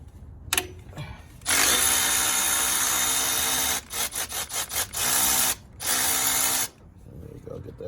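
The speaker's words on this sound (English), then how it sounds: "I got a power tool. It helps it go a lot faster." A power tool spins off the alternator bolt on a 2003 Honda Accord 2.4 L: a loud, close, high whirring burst, then a run of short stuttering pulses, then two more sustained bursts, with a quiet gap before and after.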